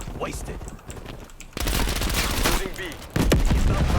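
Rapid gunfire in Call of Duty: Black Ops Cold War, loud sustained bursts that jump in intensity partway through, with a voice talking excitedly over the shooting.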